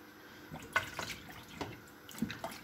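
Tap water runs over freshly peeled ginger being rinsed, a quiet, uneven patter of splashes and drips with a few sharper droplet hits.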